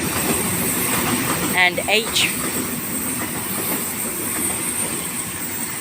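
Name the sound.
train passing through Sydenham Station, Sydney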